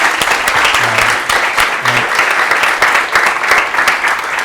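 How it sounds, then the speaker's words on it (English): Audience applause after a talk on designing UX for 2.5 million users, a dense steady clapping from a room full of listeners that holds throughout at close, even loudness. "I think we can one round of applause for both Victoria and Antonio."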